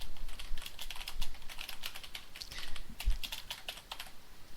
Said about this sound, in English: you can see how fast my typing is